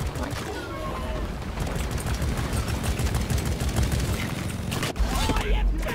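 Rapid, dense gunfire crackles in the video game Deep Rock Galactic, sustained bursts with mechanical clatter and a brief pause near the end, with voices talking over it.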